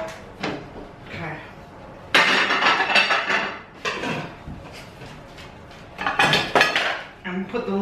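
A metal lid clanks onto a cheesemaking pot among several loud metallic knocks and scrapes of pans and utensils, with quieter handling noises between them.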